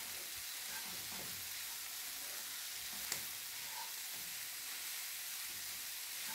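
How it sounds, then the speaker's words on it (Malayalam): Grated coconut, garam masala and curry leaves roast in oil for a Kerala squid roast, giving a soft, continuous close-up sizzle with a single sharp tick partway through. No one talks. "ആവശ്യത്തിന് കറിവേപ്പിലയും കൂടെ ചേർത്ത് ഇത് നല്ലതുപോലെ വറുത്തെടുക്കണം."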